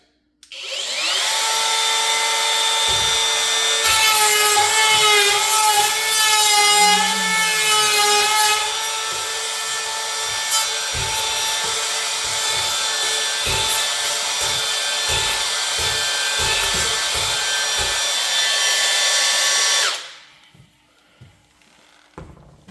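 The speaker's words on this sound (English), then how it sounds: "we're going to try out my little router here that I got as a gift" A small wood router cuts a latch mortise in an interior door, a loud, high, steady whine that holds for about nineteen seconds with slight pitch shifts as it bites into the wood, then stops abruptly.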